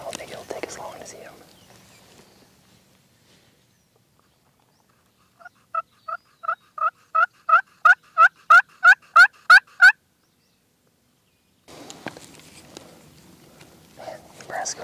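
A wild turkey in Nebraska answers hunting calls with a long rolling gobble that swells louder and closer over several seconds, with whispered talk before and after.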